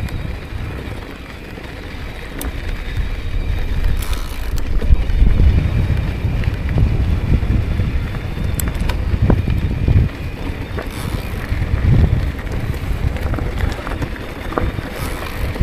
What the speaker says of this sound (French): Il y a un peu du vent aujourd'hui.